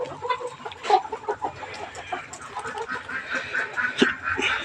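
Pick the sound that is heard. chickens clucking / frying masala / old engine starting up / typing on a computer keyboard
chickens clucking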